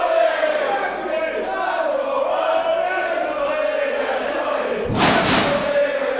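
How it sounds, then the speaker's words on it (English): A wrestling crowd at an International Pro Wrestling show jeers and roars in a sustained, loud wash of voices, with a sharp thud-like burst of noise near the end. "you can hear from this crowd just exactly how deep their disdain for the Wonder Kid runs"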